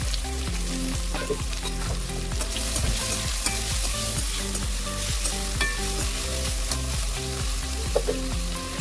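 Onion frying in groundnut oil in a pan, a steady dense sizzle running throughout with occasional stirring scrapes, close and loud, no talking.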